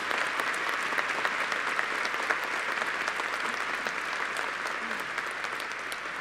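Warm, sustained applause from an assembled crowd at a diocesan ceremony in Tabasco, with dense, even clapping continuing at a steady volume and a faint voice or two beneath it.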